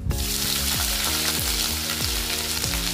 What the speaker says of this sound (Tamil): இஞ்சி, பூண்டு, பச்சை மிளகாய் இதெல்லாமே நல்லா வதங்கிடுச்சு